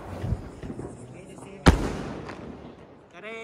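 A single loud, sharp Diwali firecracker burst goes off, sudden and close, after a stretch of background chatter and noise, with a lingering rumble and voices continuing afterward.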